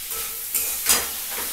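Spices and fish head fry in a pan for muri ghonto, giving a soft continuous sizzle broken by a few louder hissing bursts as the mixture is stirred.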